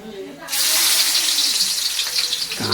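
Onions fry in a pan for a crab chilli dish, a sudden burst of loud bright sizzling that starts after a brief quiet moment and holds steady, with a voice briefly audible near the end.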